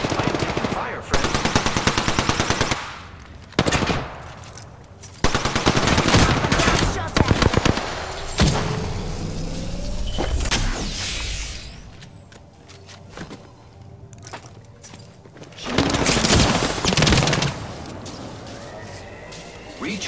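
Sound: gunfire in a video game

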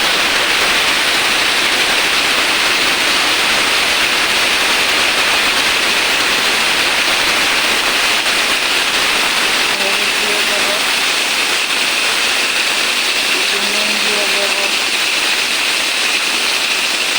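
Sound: tomatoes frying in hot oil with dried chillies

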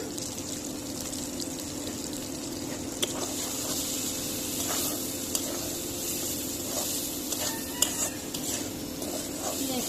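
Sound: pointed gourd and potato frying in a pan

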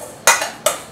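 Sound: stirring seasoning into food with a utensil

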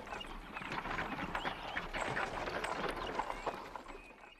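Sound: horse-drawn carriage hooves clip-clopping

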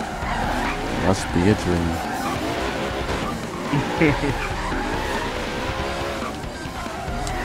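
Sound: car engine roar and tire squeal while drifting, Forza Horizon 3 video game

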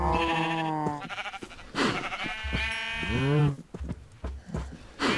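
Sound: sheep bleating in video game Minecraft

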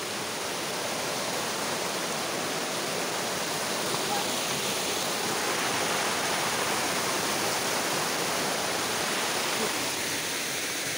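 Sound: Dhoni waterfall in Palakkad, water falling

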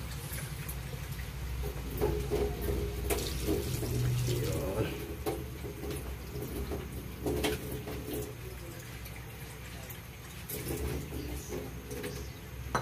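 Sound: pork and taro dinuguan broth starting to boil

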